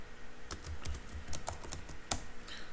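Typing on a computer keyboard while writing ASP.NET code: a steady run of close, crisp key clicks in an uneven rhythm, with a few sharper, louder strikes standing out near the end.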